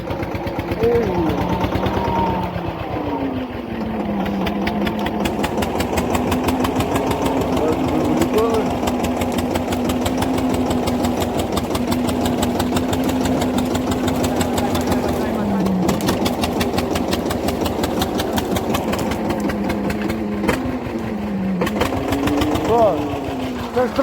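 A small engine of a homemade tractor modeled on the T-25 runs steadily and loudly throughout, its pitch dipping and rising slightly, with people talking over it now and then.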